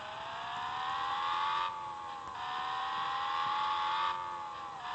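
Simulated car engine in Public Transport Simulator, a steady mid-pitched drone that rises and dips as the vehicle accelerates and eases off, heard alone and fairly close.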